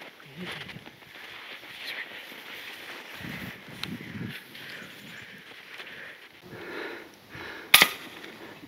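A single sharp crack from an FX Impact MKII airgun fired at a rabbit rings out near the end, loud and brief over quiet outdoor background with soft movement and breathing.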